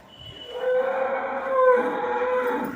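A cow moos in one long, drawn-out, tonal call lasting over two seconds, close and fairly loud, with no talking.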